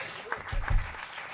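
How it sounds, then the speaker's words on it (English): Audience applause at a big band concert at the Iridium on Valentine's Day, a short burst of clapping from the crowd with a voice briefly heard alongside. "Okay, you guys clapped."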